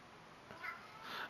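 A cat meows in The Outer Worlds video game, two short, faint, high mews in quick succession over a quiet background hiss.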